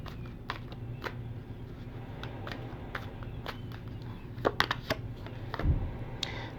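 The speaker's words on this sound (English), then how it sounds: "I'm just going to shuffle again just to make sure." Tarot cards being shuffled by hand, heard as a run of soft, irregular riffling snaps and taps close by, growing busier and louder near the end.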